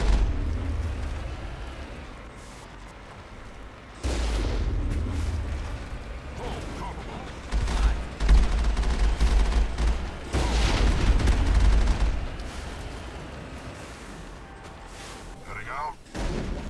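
Mako combat in Mass Effect on Xbox 360: heavy booming explosions and bursts of gunfire rumble through in irregular waves, loud and layered, with voices talking in between.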